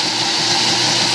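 An Oster blender runs steadily at full power churning coconut into butter, a loud, continuous whirring roar without pause or voices.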